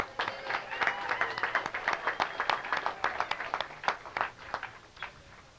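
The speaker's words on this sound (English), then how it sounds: "So big round of applause for Tim." An outdoor bike-to-work day crowd applauds, a dense burst of many hands clapping close by that swells and then slowly thins out over several seconds.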